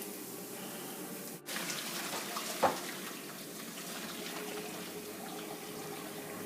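Steady broadband water noise of a hot tap running into a sink to rinse boiled knepfla dumplings, continuous throughout, with a brief clunk partway through.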